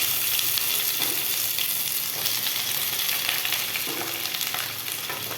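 Chopped onions hitting hot oil already seasoned with dried red chillies and whole bay leaves, giving a steady, loud, dense sizzle that holds unbroken throughout with no voices.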